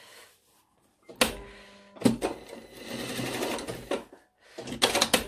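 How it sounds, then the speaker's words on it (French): A sewing machine stitches the corner of a skirt in short close bursts, a fast rattling whir broken by pauses and light handling clicks, with no talk over it. "Moi, j'aime bien faire ma petite piqûre de coin là."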